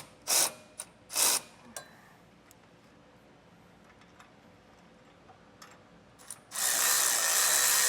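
A hand ratchet clicks in short bursts while tightening air bag suspension hardware on a 2021 Ford F-350, with scattered ticks and then a louder, steady mechanical whir near the end.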